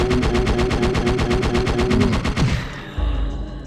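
Rapid automatic gunfire in the video game Parasite Eve II, a fast rhythmic burst of loud close shots for over two seconds that stops abruptly, followed by a low thud.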